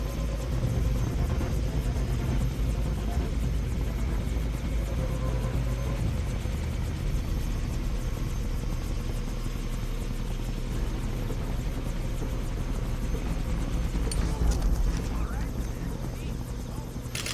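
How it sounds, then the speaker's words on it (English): Helicopter in the video game Far Cry 3, a steady loud rotor rumble running throughout under game sounds, with a brief burst of noise near the end and voices talking over it. "Can't let them put Ollie in the chopper"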